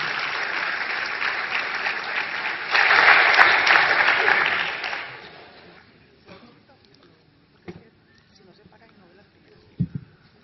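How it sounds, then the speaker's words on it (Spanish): An audience at a Columbia University economics congress lecture bursts into applause to welcome the next speaker, a steady wash of clapping that swells in the middle, then fades out, leaving a quiet room with a few faint knocks. "Recibamos con un fuerte aplauso a nuestro siguiente conferenciante, José Antonio Ocampo."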